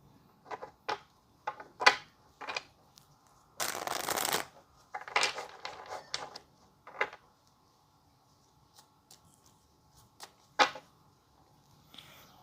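Tarot cards are shuffled up close in quick riffling bursts and soft slaps, with a longer flurry in the middle and sparse taps toward the end.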